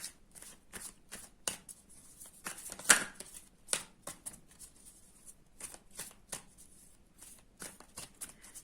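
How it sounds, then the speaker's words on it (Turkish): Angel cards are shuffled by hand in a quiet room, giving soft repeated riffling flicks in an irregular rhythm, close and fairly faint, with one sharper snap partway through. "Şimdi ben melek kartlarımızdan mesajlar için e, kartımı karıştırıyorum."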